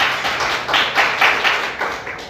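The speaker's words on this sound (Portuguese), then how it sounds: "Quantos podem glorificar e aplaudir Jesus bem forte?" A church congregation claps hard in praise, loud and fairly rhythmic with distinct repeated bursts of hands over a couple of seconds.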